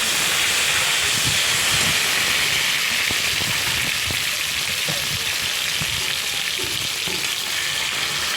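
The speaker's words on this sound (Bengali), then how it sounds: "কালো জিরে ফোড়ন দিয়ে আলুগুলো দিয়ে দিলাম আলুগুলো একটু লাল লাল করে ভেজে নিই" Potatoes fry in hot oil tempered with nigella seeds while cooking a fish curry with aubergine and coriander, a steady close sizzling hiss with occasional stirring clicks and scrapes, faint talk underneath.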